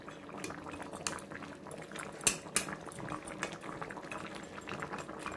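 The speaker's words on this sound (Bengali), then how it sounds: "পনিরগুলো দিয়ে আমি মিনিট 2-3 গ্যাসটাকে একবারে খুলে দিয়ে ফুটিয়ে নেব" Paneer and pointed gourd curry boils hard over a full gas flame, giving continuous bubbling with a couple of brief utensil clinks near the middle.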